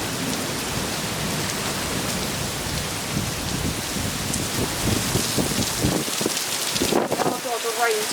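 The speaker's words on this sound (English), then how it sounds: "the rain's really starting to come in" Heavy rain pours down during a derecho wind storm, a dense constant roar of drops hitting surfaces close by, with gusts and a deeper rumble building toward the end.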